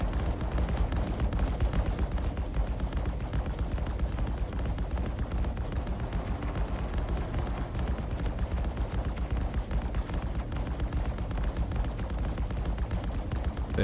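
Sustained, dense gunfire in the Star Citizen space game, rapid shots blurring into a continuous loud barrage with no pauses and no talking.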